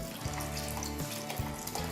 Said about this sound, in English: I've added a little bit of water just to rinse out whatever marinade was there